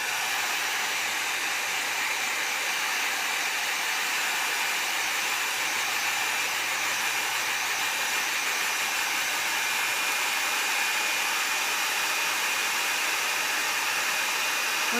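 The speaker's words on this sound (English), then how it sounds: "now I'm going to warm this up a little bit with my heat gun" A heat gun blows hot air over wet craft work to dry it, giving a steady, loud, continuous whooshing hiss that runs unbroken from start to finish, with no talking.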